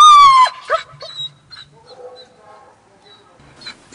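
A dog in obedience training gives a high whining whimper followed by a few short yips and barks, close and loud at first, then quieter scattered sounds.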